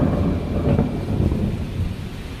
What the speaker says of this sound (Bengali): একটা বাজ পড়ার শব্দে